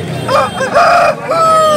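Roosters and hens at a Sunday poultry market in Nellore, with a close, loud crow and clucking rising over a steady crowd murmur.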